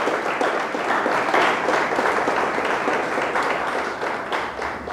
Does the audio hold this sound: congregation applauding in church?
yes